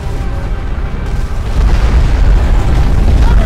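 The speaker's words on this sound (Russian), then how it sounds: "Ядерный взрыв, который должен был уничтожить пришельцев" Nuclear explosion in the video game Crysis, a deep loud roaring rumble that swells and grows heavier toward the end, continuous and alone without talk.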